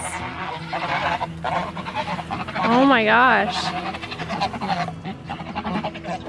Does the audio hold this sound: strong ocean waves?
no